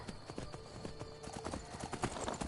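Horse hooves clip-clop at a steady walking pace in the Skyrim video game, a continuous rhythmic patter of hoofbeats with faint background ambience.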